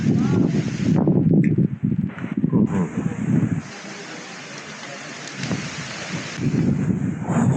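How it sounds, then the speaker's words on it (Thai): Blustery wind roars and buffets the microphone in heavy gusts at a mountain campsite on Doi Samoe Dao, easing briefly midway before surging again, with a voice speaking over it. "โอ้โห ลมแรงมาก จริงๆ"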